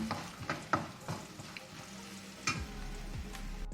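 Sago khichdi frying with turmeric in a pan, a steady sizzle broken by a series of sharp scrapes and clinks as a spoon stirs it, close and fairly quiet.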